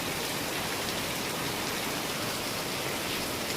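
Heavy rain pours down steadily, a dense, even hiss with no pauses and no voices.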